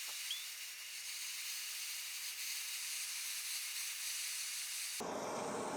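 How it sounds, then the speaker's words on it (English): Mixture of rose petals and vodka boiling down as its ethanol cooks off, a steady close hiss like steam running unbroken for about five seconds before a brief shift in the noise at the end. "Oh, nice boiling."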